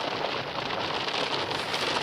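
Heavy rain pouring down outside a parked Honda Fit Shuttle as it builds into a downpour, a dense, steady hiss of drops drumming on surfaces, loud and continuous with no talking.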